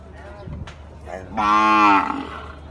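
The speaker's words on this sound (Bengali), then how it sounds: "এখানে অনেকগুলো গরু আছে।" A single long, loud cow moo rises out of background bustle at a busy cattle market in Fatullah, Aliganj, with faint crowd noise before and after it.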